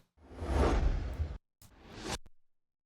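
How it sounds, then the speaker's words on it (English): Two whooshing transition sweeps in a row, the first a broad rushing swell, the second a rising swish that cuts off abruptly, with no talking. "I'm just going to layer these two transition sounds to bring in the intro right here"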